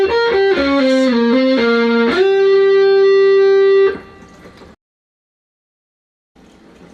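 Overdriven electric guitar plays a slower blues rock riff with hammer-ons, pull-offs and a slide up to a held note, loud and alone, ringing out then cutting to silence before a faint tail of noise.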